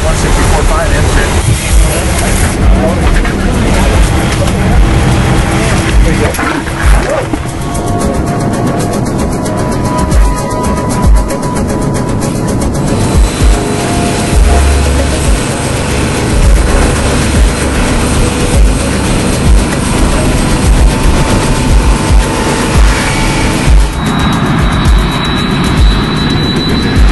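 Boeing 777 jet engines running at full takeoff thrust, a loud, steady broadband roar that holds throughout with shifting tonal whines rising and settling, and faint voices occasionally under the noise.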